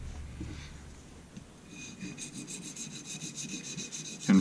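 A knife blade is sharpened freehand on a Norton Fine India oilstone, producing rhythmic close-up rasping strokes back and forth, steady and moderately quiet, with no talking.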